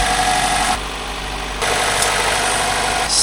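A car engine idles steadily and close by while its transmission fluid is checked, a continuous low rumble with slight vibration and no speech.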